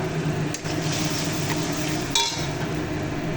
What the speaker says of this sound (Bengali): লো টু মিডিয়াম ফ্লেমে এই মশলাটা কষাতে হবে।